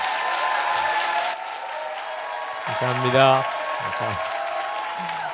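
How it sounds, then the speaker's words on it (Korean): A church congregation claps warmly to welcome a pastor at a worship gathering, a dense sustained round of applause with voices speaking over it and a brief swell partway through. "크게 박수해 주시고 맞이해 주시면 좋겠습니다"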